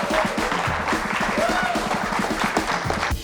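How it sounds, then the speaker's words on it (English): An audience at a tech week talk in Mexico applauds, clapping with some crowd noise mixed in, while a person keeps speaking over it. "Round of applause."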